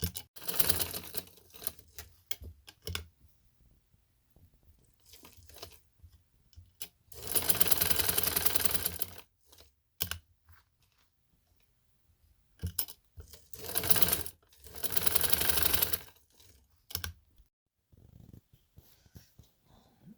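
Sewing machine running in bursts while stitching a zigzag design on a garment hem and sleeves, with several short runs and two longer whirring stretches separated by pauses and faint handling sounds, close by.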